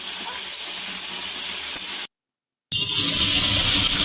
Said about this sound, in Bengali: গ্যাসটা দেখো বন্ধুরা, একটু নর্মাল ফ্লেমে রেখে আলুগুলো ভেজে নিলাম।